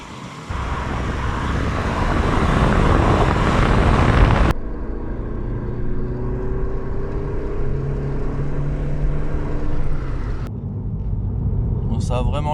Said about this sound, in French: Je vais faire une accélération à 4000 tours.